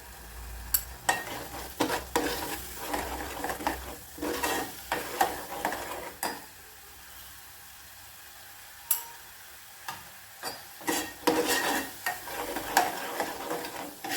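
Masala with turmeric roasting in a pan for prawn curry, repeated scraping stir strokes over a soft sizzle, close and fairly quiet, with a brief lull midway.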